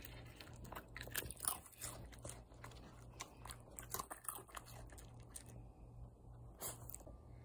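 A dog crunching and chewing a pretzel up close, a run of sharp, irregular crunches and wet chewing bites, busiest early then tapering off into quieter, sparser chomps.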